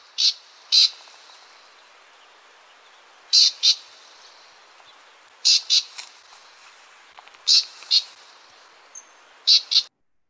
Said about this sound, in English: And maybe you can house a house wren. They have a very harsh chatter sound.